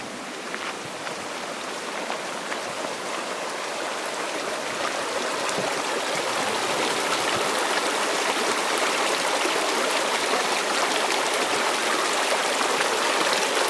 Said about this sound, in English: No, this is a natural stream.